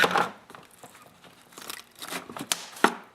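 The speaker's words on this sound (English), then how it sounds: "I'm actually going to go in with an X-Acto. This is going to cut the sealant." An X-Acto knife slices through sealant along a snowblower transmission cover, giving faint, close scraping and crinkly cutting strokes in short irregular bursts, with a sharper snap near the end.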